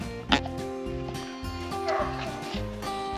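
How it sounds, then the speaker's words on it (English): A team of sled dogs barks, yips and whines excitedly before a winter run on the Kungsleden trail in Sweden, a dense, overlapping chorus close by, with a person talking through it. "when I put my jacket on, the dogs know, wow, now we go. And then they usually turn crazy."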